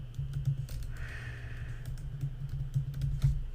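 Steady, soft clicking of keys on a computer keyboard as a login email and password are entered, a quick irregular patter heard close over a low constant hum, with no talk.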